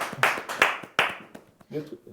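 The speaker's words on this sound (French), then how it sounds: "j'ai dit applaudissez" A few slow, separate hand claps ring out in a French entertainment show, about three sharp claps spaced evenly, with talking in the background and a voice near the end.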